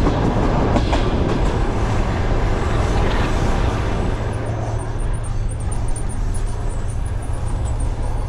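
Steady rumble of a train running on rails, heard from inside a passenger car during a long rail journey through Central Asia, with continuous low droning, faint clatter and a constant close, loud wash of noise throughout.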